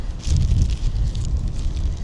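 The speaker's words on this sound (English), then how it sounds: "It is windy out here and cold." Gusty wind buffets the microphone in uneven low rumbling bursts by a pond on a cold morning, loud and close, with no voices.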